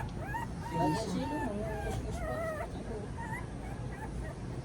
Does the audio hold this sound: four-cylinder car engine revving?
no